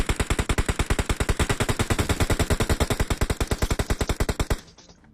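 Sustained automatic fire from a DP-28 machine gun in PUBG Mobile: a long, rapid, evenly spaced burst of loud shots that stops abruptly near the end.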